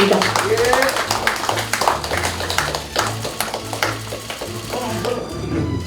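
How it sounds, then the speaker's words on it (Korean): Applause at a Busan mayoral primary results announcement, celebrating the winning candidate: a dense burst of clapping from a gathered crowd, loud at first and then easing, with a voice talking over it. "다시 한번 박수 부탁드립니다."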